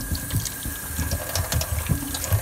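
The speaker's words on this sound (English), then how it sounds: "So what I'm going to do is put a little water in here." Tap water runs steadily into a container to rinse dirt off a cucumber, a continuous close splashing flow with no talk.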